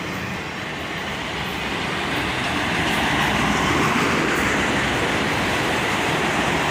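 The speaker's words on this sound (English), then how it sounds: "CSX autorack train in the hot summer sun," A CSX autorack freight train rolls past in hot summer weather, a loud, steady broadband rumble and rush of wheels and cars that builds slightly and holds close throughout, with no voices.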